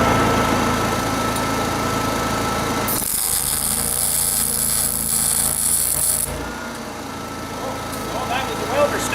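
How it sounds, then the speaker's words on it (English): A Miller 212 MIG welder powered by a Honda 7k generator sticks while welding, a harsh loud crackling buzz that cuts in suddenly for about three seconds, then stops abruptly over the constant drone of the running generator. "Oh, that was the welder sticking."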